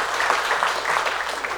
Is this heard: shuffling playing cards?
no